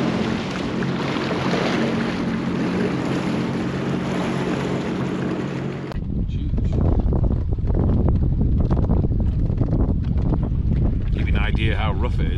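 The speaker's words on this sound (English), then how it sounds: "That wind's pushing me right across." Strong wind buffets a ship in rough weather near Sunnanvik and Federal Kushiro, a loud continuous roar of wind noise across the microphone that shifts abruptly to a heavier, gustier rumble midway.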